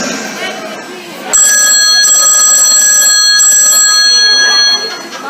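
A telephone ring cuts in loud and steady over a lively live comedy show crowd in a Corfu concert hall, a sustained bright tone that holds for several seconds before dropping away, with chatter and voices underneath.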